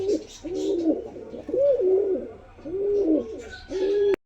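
Young pigeons waiting to be released coo in a repeated rhythmic series of low, throaty calls, close and clear with no speech.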